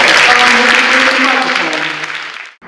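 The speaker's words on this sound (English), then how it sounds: "So I want to give a round of applause." An audience claps throughout a California State of Education address in 2013, a dense, loud burst that holds steady and then stops abruptly. Harmonic bands under the clapping suggest a voice talking through it.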